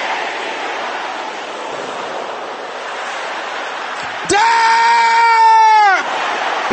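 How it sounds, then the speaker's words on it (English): A church congregation shouts loudly during a sermon: a broad roar of many voices, then one sustained, strained, scream-like cry rises above the crowd for under two seconds. "Can I hear you shouting that loud?"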